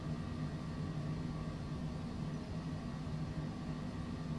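Jet airliner cabin noise in Microsoft Flight Simulator, with engines mounted at the rear: a steady, even low roar and hum that stays unchanged throughout with no talk.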